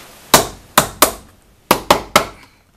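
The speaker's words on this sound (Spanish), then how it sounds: "con el martillo le damos un golpe" A hammer strikes a metal pin six times in two groups of three while assembling a KB901A motorcycle, each blow sharp, loud and close, with brief ringing decays.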